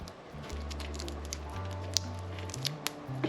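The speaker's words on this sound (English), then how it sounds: "I'm going to cut through the sheathing, and then it should just peel off like so" A blade slices through the outer sheathing of an electrical wire for trailer wiring, then the jacket is peeled away, with close, crisp snipping and tearing crackles over a low steady hum.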